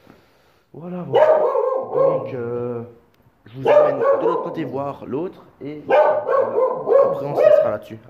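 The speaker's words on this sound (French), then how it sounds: "c'est le chien qui gueule comme d'hab." A dog barking on a farm with a barn: repeated barks mixed into someone talking in French throughout, fairly loud and close.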